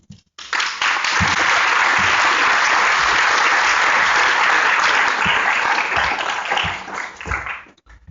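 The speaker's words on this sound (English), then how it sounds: "Don't clap till you've heard it." A conference audience at a journalism meetup bursts into loud, dense clapping that swells quickly, holds steady for several seconds, then tapers and fades out near the end.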